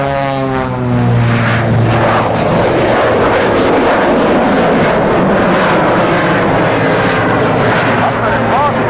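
A propeller airplane engine roars loud and steady overhead at a Sussex, New Jersey airshow during a wing-walking act, with a brief voice early on and a drone that holds throughout.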